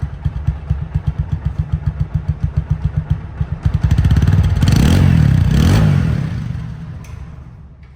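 A 2020 TVS Apache 4V motorcycle idles with an even, pulsing putter up close, then revs into a sustained, louder roar before easing back down.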